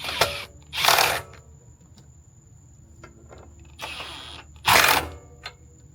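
A new car battery is ratcheted tight in a home garage, giving several short bursts of loud mechanical whirring with small clicks between them.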